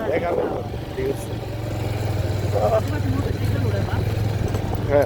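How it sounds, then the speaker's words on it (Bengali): Motorcycle engine running steadily on a beach road at Parki Beach, Anwara, a low droning hum throughout with chatter and wind over it. "হ্যাঁ মোটর সাইকেল তো উঠে দিয়েছে"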